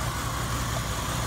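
A 1991 Cadillac DeVille 4.9 liter V8 with 59,000 miles idles steadily on an engine test at an auto wrecking yard, a low continuous rumble with no talk.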